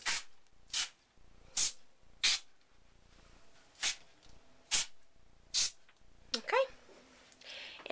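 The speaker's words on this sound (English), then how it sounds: "So I'm going to spray this now." Pet-safe disinfectant spray misted around a guinea pig cage: eight sharp hissing spray bursts in an uneven rhythm, close and fairly loud, with a brief rustle near the end and a quiet background between.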